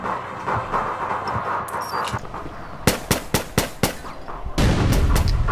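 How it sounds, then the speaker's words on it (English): Gunfire in the video game APB Reloaded, a run of about six sharp, evenly spaced shots, close and loud, alone among other in-game noise. "I shoot you with my gun."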